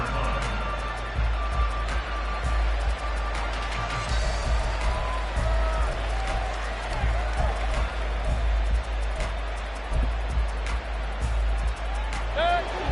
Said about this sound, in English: The crowd may be losing just a little bit of the edge after back-to-back punts